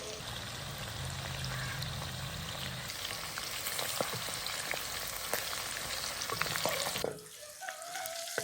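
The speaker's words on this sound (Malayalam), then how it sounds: "ഇനി നമുക്ക് ഓരോ ചിക്കൻ പീസസ് ഇങ്ങനെ ഇട്ട് ഫ്രൈ ചെയ്തെടുക്കാം" Chicken pieces fry in hot oil with a steady, moderately quiet crackling sizzle and occasional pops, then the sound drops off sharply near the end.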